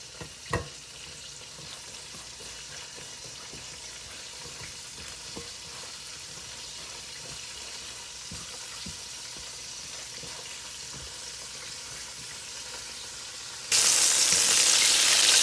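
Cornmeal-coated okra frying in hot oil, a soft continuous sizzle with a few light clicks near the start, then a sudden louder, brighter hiss in the final seconds; no voices.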